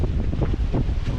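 Strong gusts from an approaching typhoon buffet the microphone, a loud, rumbling, uneven roar that swells and dips in rapid pulses.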